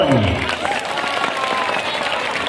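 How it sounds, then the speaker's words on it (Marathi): A crowd applauds at a village wrestling bout on red earth in Pune, a dense, continuous burst of clapping close by, with a voice briefly over the start. "आपासाठी जरा टाळ्या करा सर्वांनी"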